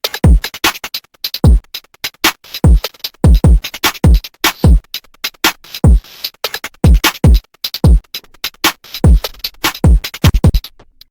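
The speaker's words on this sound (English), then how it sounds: "I have a drum loop that plays like a trap pattern here," A trap-pattern drum loop from a dubstep track hits hard and loud, with deep booming kicks that drop in pitch and sit among rapid clicky hats in a steady, syncopated groove.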